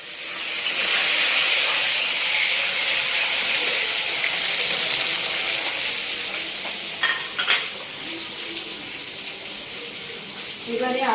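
Chopped tomatoes hit a hot pan for mutton kasha and sizzle loudly, a dense steady frying hiss with a few stirring clatters near the middle, easing slightly toward the end.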